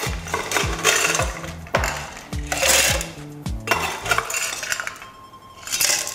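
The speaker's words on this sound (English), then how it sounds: "We're gonna add some ice." Ice cubes clatter into a cocktail shaker for a limoncello sour in several loud bursts of sharp clinks and knocks, a rough rattling rhythm with short pauses between pours.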